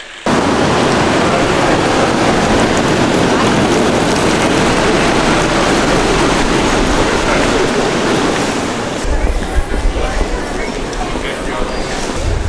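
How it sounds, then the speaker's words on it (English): A loud, dense roar of heavy rain in the UK fills the air continuously, shifting to a lighter patter near the end. "as you can hear, it is a glorious rainy day in the UK"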